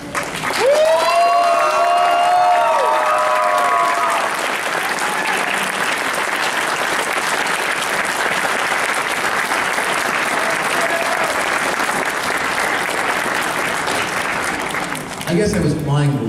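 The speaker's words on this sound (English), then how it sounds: "I just wanted to think we should have a round of applause for our great host, Tony." Audience applause at an anime convention in 2023, a sustained roar of clapping from a large crowd, with a voice speaking at the start and a brief voice near the end.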